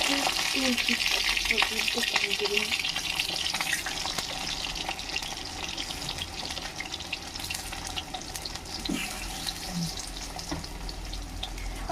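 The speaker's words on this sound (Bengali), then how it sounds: "এবার চলো আলুটা ভেজে নিই, নাহলে তেলটা পুড়ে যাচ্ছে।" Potatoes fry in hot oil with a dense, steady sizzle and crackle heard close up, with occasional faint stirring clinks and no talking.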